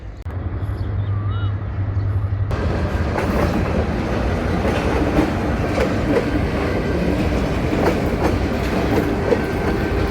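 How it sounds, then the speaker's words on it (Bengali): A train pulls into Ashuganj railway station in Bangladesh, its steady loud rumble and clickety-clack of wheels on rails filling the scene close by. "দুই পাশেই দেখেন বন্ধুরা, ট্রেন আসতেছে।"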